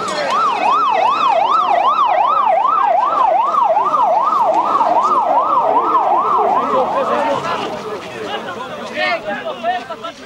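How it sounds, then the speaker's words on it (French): Fire engine siren in a city street, loud and close, wailing in a fast rising-and-falling pattern for about seven seconds before traffic and crowd noise take over, with voices talking over it. "ça c'est pompier, ça va pas passer"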